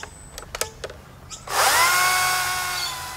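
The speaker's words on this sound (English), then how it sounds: "pop it into a STIHL battery-powered chainsaw, and I can get to work chopping this branch up" After a few sharp clicks and handling knocks, a STIHL battery-powered chainsaw whirs up loud and close to cut a garden branch, its high motor whine settling into a steady drone.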